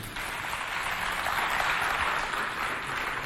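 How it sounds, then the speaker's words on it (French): An audience at a youth vacation cultural contest between two community groups applauds steadily and fairly loudly, a dense continuous wash of clapping with no voices over it. "On les applaudit bien fort, s'il vous plaît."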